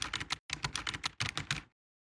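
Quick bursts of computer keyboard typing, a rapid patter of close keystrokes in two short runs separated by a brief pause, then silence.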